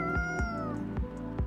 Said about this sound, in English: We get it, cat. You're meowing.